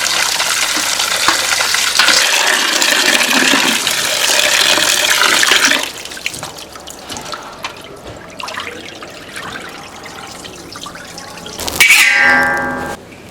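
Tap water running loudly while pork belly is rinsed, a steady gushing stream for several seconds, then quieter splashes and handling, ending with a short burst of water.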